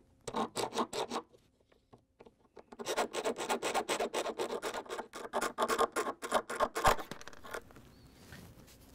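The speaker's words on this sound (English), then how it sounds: "we're just going to take a hacksaw blade and cut the axle" A hacksaw blade cuts through the metal axle of a Samsung front caster wheel, giving a steady run of close, rasping back-and-forth strokes with a brief pause after the first few.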